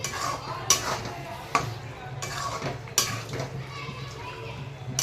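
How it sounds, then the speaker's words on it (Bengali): Chicken liver and gizzard pieces frying in masala while being stirred, with scraping and a few sharp metal clanks of a spoon against the pot, all under a busy background of voices and children. "এবার এটাকে ভালোভাবে এখন ফ্রাই করে নেব নাড়াচাড়া করে নিয়ে ফ্রাই করে নেবো"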